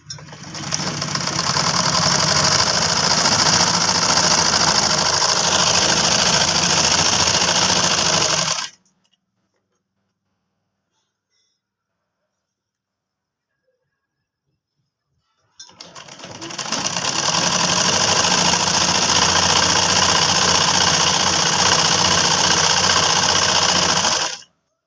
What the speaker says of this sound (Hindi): और यहाँ ये जो ट्राउजर का पैर है उस पर सिलाई लगा रहे हैं हम।